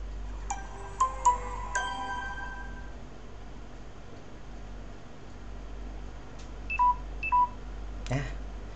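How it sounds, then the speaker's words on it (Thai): A Samsung Galaxy S6 smartphone sounds a series of short electronic tones, several quick beeps at first and then a spaced pair of chimes a few seconds later, close and fairly quiet over a steady background hum. "เสียงแบบนี้คือแบตน้อยนั่นไง"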